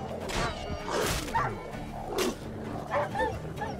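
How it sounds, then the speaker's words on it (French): Video game dogs in The Witcher 3: several short, yappy barks and whimpers come in bursts over a few seconds, fairly close, with a faint voice in the background. "Et donc, il y a des chiens."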